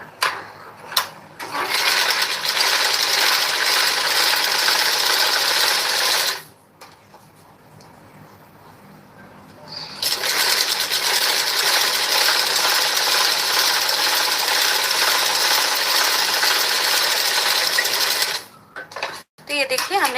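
A sewing machine stitches a seam on a blouse in long loud whirring runs, pausing once for a few seconds and stopping briefly again near the end.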